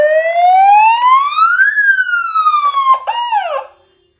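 30-watt emergency hooter siren fitted to a Mahindra Thar, heard without an amplifier: a loud, close electronic wail that rises, falls, then gives a quick warbling chirp before cutting off.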